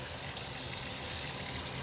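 Water flows steadily into the tub of a compact washing machine, a constant close hiss and splash with no pauses and no talk.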